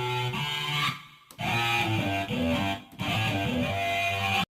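A voice sample pitched down and run through distortion, an amp and reverb to mimic an electric guitar plays a few sustained, buzzy tonal phrases separated by brief gaps.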